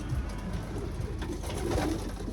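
Low, soft cooing of pigeons repeats steadily, close by, over a faint background hum.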